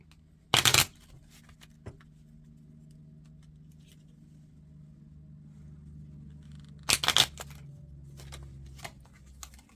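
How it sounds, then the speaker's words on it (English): A deck of tarot cards is shuffled in two quick crisp riffle bursts several seconds apart, over a steady low background hum. "I'll give them a shuffle here"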